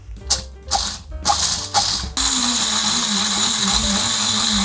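Drone motors spin up to a steady, loud, high whine after a few short mechanical clicks and bursts, and the whine holds for several seconds with no talking.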